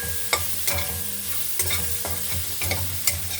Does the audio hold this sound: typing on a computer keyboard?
no